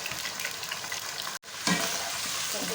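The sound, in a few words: chicken frying in a pan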